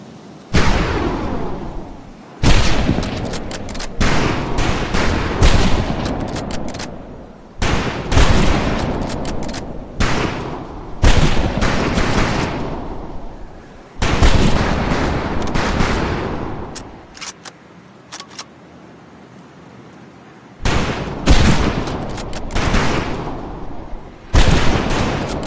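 Volleys of rifle fire on a shooting range in the video game Medal of Honor Pacific Assault: loud, dense bursts of shots, several seconds each, separated by short pauses.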